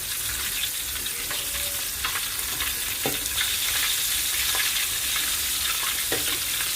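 Chicken pieces for ayam geprek fry in hot oil, a steady bright sizzle with occasional crackles and the scrape of turning, close and continuous without talk.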